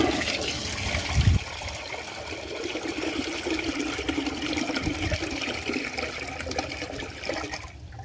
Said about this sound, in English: Let's see if it can flush.